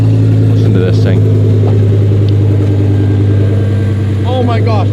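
A low-slung Lamborghini with a V10 engine under repair rumbles loud and close with a steady deep drone and some rev variation, while people talk over it.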